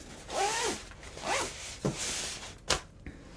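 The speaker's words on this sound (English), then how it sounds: "and then I just zip that up" A zipper is pulled closed on a bag of painting supplies in a few quick, rasping strokes, close and clear, ending with a couple of small clicks.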